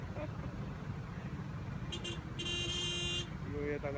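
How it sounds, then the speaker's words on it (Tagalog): Busy road traffic rumbles steadily around a motorcycle while a car horn sounds in a short burst, then a longer blare, with another honk near the end. "Busina ng busina eh,"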